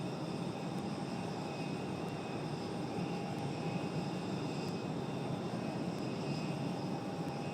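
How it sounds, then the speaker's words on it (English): A Delta airliner arriving from New York at Raleigh Durham International airport, its engines a steady, sustained roar with a broad even rumble throughout. "There is a Delta 5150 coming in from New York"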